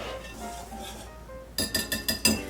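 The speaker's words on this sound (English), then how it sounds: "You're going to whisk this together." Flour and salt whisked together in a bowl while making a gluten-free pastry dough, a quiet stretch followed by a run of five quick metallic clinks as the whisk strikes the bowl, close and clear.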